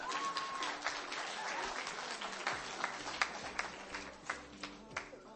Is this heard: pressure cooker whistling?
no